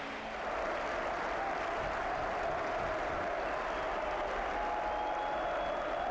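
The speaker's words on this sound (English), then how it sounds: "the supporters as they stay and applaud both sets of players" Football supporters at a Wigan Athletic match applauding both sets of players, a steady, sustained wash of crowd clapping that carries on evenly from start to finish.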